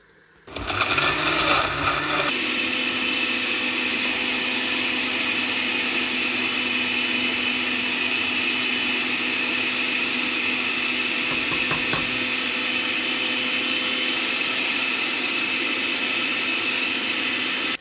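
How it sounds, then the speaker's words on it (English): A kitchen blender whirs at a loud, constant pitch as it purees ingredients for jollof rice, starting abruptly after a brief clatter and holding a steady motor drone throughout. "We got that blended up."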